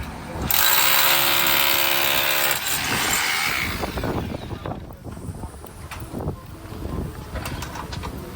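A power drill whirs loudly for a couple of seconds drilling holes for concrete screws during a high-rise barrel tile re-roof, then tapering off into scattered clattering and knocking of work noise close by.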